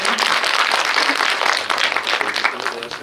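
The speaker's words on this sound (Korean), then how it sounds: "저희 박수를 한번 여기서 드려야 될 것 같아요" Audience applause at a film screening with a director and actress Q&A, steady dense clapping from a seated crowd with some voices mixed in, lasting the full few seconds.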